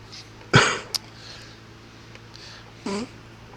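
A single sharp sneeze burst near the mic, followed by a brief click and later a softer breathy sound, over a low steady hum.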